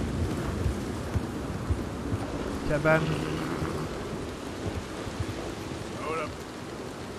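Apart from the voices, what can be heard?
rain and thunder in the video game Red Dead Redemption 2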